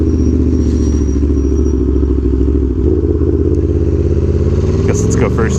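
An Aprilia Tuono V4 Factory motorcycle engine runs loud and close with a rough, pulsing throb and some clatter, as the rider readies a wheelie, without any wheelie control engaged.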